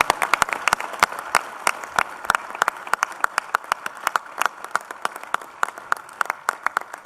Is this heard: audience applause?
yes